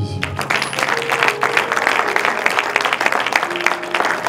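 A church congregation at a New Year's Eve service applauds and cheers for Jesus, a dense, steady wash of clapping with scattered voices rising through it.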